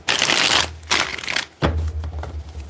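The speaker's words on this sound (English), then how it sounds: "Let's get one more good shuffle here." Tarot cards are shuffled in bursts of crisp riffling and snapping, three or four quick shuffles close to the microphone with brief pauses between them.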